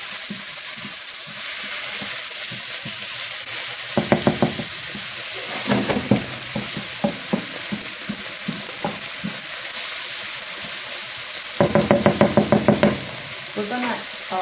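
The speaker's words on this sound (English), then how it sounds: "We'll fry the onions. A little bit more oil." Onions fry in oil in a pan with a steady loud sizzle, broken by bursts of scraping and stirring clatter near the start and again toward the end.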